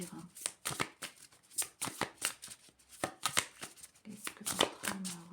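Oracle cards are shuffled by hand for a reading, producing close, uneven bursts of papery riffling and slapping, with a voice speaking at times.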